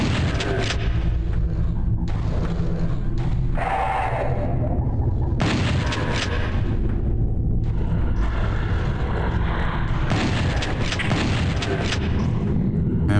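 Shotgun blasts in PlayStation Doom, several loud booming shots in bursts separated by brief lulls, with a voice talking over parts of the combat.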